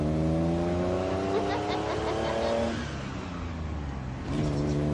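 Big Healey sports car engine pulling hard under acceleration, a loud, steady revving drone that rises in pitch, eases briefly, then climbs again, with a rattling underneath throughout.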